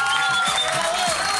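Dense, steady applause from a studio audience for a singer on a singing talent show, with faint voices showing through the clapping.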